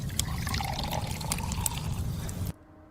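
A drink poured as a stock sound effect: a steady, close liquid pour and trickle with splashy detail, running continuously for about two and a half seconds before stopping abruptly into near silence.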